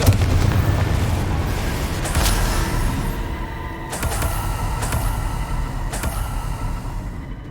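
Confringo fire spell blasts in the game Hogwarts Legacy, loud booming explosions with a rumbling low end, a few distinct bursts spaced about every second or two over a dense rolling roar.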